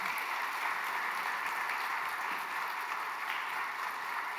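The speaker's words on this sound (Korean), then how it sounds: "그럼 이 시간에 우리 큰 박수로 모시도록 하겠습니다." A church congregation at a New Year revival service claps steadily to welcome a visiting pastor to the pulpit, a continuous wash of applause that sounds moderately distant in a large hall.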